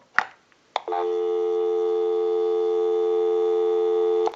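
A Western Electric 302 rotary desk telephone handset picks up a few clicks, then a steady, loud continuous busy-line tone that holds alone until a final click.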